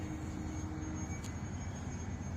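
A model Cub airplane's electric motor buzzing steadily at about 80% throttle in flight, a constant drone with a thin high whine and no talking.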